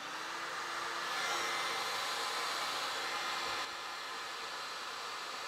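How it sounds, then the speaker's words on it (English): A two-stage heat gun on its high setting, drawing about 1,350 watts from a portable power station, gives a steady, loud airy whoosh of fan and hot air that runs unbroken throughout. "Two-stage heat gun, we got low and high."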